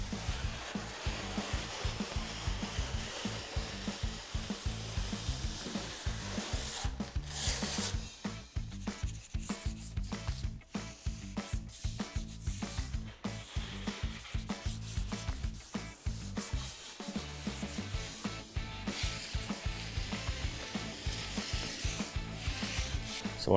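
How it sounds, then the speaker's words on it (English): A scraper held flat shaves a faux concrete coating on a wooden bar, giving continuous close rasping and rubbing strokes in a rough back-and-forth rhythm with brief pauses. "when I scrape, using the scraper, I want to make sure I'm holding it flat on the surface, and it'll just shave off any thick spots."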